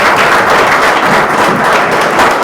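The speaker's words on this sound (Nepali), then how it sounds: "उहाँ लगायत हामी सबैले एकअर्कालाई जोरदार ताली बजाएर" A congregation at a church service applauds loudly together, a dense, steady wash of many hands clapping that fills the whole moment without pause.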